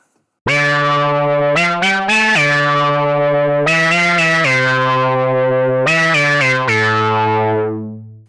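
Vintage synth bass from an old VST collection, loud and sustained, playing a short riff of held notes with sharp retriggered attacks and a long fading tail at the end, alone with no talk.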